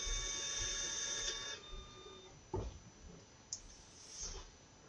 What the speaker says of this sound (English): That printer always sounded like an angry animal devouring something.